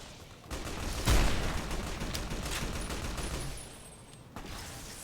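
Rapid bursts of gunfire in Fallout New Vegas, with a heavy boom near the start and a sustained crackle of shots running for several seconds before easing, then picking up again at the end.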